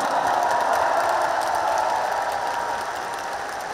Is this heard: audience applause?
yes